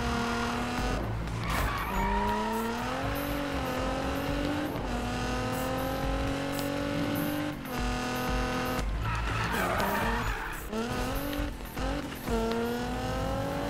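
A car drifts in the Need for Speed video game, with a loud engine revving and shifting pitch under long, wavering tire squeals that repeat across the stretch and no voices on top.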